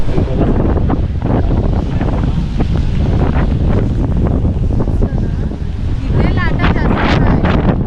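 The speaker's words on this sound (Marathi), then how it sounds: "समोर जे लाटा बघा तुम्ही त्या भारी वाटत आहे" Monsoon ocean waves wash steadily on the Konkan coast near Ganpatipule, with heavy wind buffeting the microphone, a constant loud roar throughout, with some background noise rising near the end.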